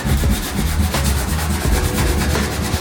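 Veronica sands a car body panel on a Mazda MX-5 drift car in a garage, a steady rough rubbing scrape running continuously at close range with a pulsing back-and-forth texture and no talking.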